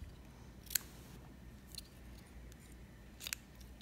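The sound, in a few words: scissors trimming cotton wick for Reload RTA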